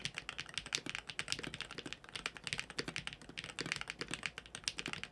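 Rapid, irregular clacking from a Ying 63 magnetic keyboard fitted with Jade Pro switches, each keystroke crisp and close, typed alone at a fast steady pace.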